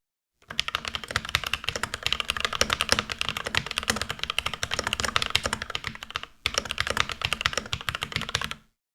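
Steady, rapid typing on a Keychron K8 (non-Pro) mechanical keyboard, dense clacking keystrokes close up, running continuously with one brief pause before resuming, no voices.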